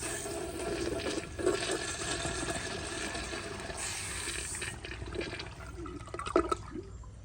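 A 1997 Kohler Dexter urinal flushes with a steady rushing wash of water through its rim jets, holding at an even level before thinning into gurgles and a few louder splashes near the end.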